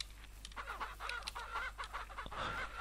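Game chickens in Ranch Simulator cluck steadily and fairly close, several birds overlapping in a busy farmyard chatter with no one talking.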